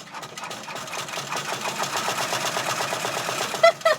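A sewing machine strains to stitch through thick hat fabric, its motor whirring in a fast, even rhythm up close, then a couple of sharp clunks at the end.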